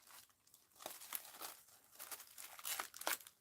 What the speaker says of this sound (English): I hate cutting good bags, but there's no way I'm going to get into all of these.